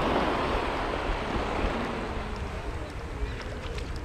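Sea waves roll in at Mamzar Beach, a steady broad wash of surf with wind buffeting the microphone, continuous and fairly loud throughout with no clear break.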